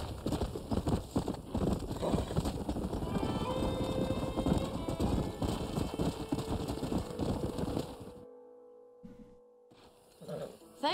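Horse hooves clip-clop at a brisk, even pace in the Western video game Red Dead Redemption, set among ranch horses, with a steady rhythm under ambient noise before stopping abruptly, followed by quiet.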